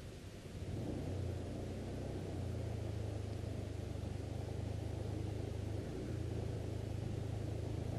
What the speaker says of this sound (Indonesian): gas sedikit aja dia RPM-nya sudah naik kok